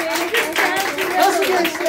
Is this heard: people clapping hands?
yes